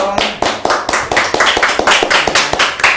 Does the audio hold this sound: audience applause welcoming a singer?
yes